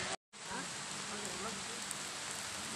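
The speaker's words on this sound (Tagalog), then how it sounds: "Umuulan." Steady hiss of rain falling, close and constant, broken by a brief dropout near the start, with faint voices underneath.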